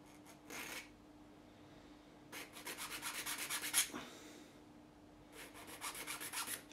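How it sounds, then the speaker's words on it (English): A file rasps across the fret edge of a Jim Harley GJA ED4C electro-acoustic guitar during a re-fret, with one short stroke followed by two quick runs of rhythmic scraping strokes, quiet and close with no talk. "I will take a file, free edge file, and I will just file this little bit so it's nice and flat."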